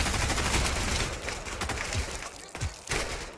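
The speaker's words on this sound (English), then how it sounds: "Machine gun nest." Machine gun nest firing in the World War II shooter game RAID: World War II, a dense, continuous fusillade of loud gunfire and thuds filling the whole stretch without talk.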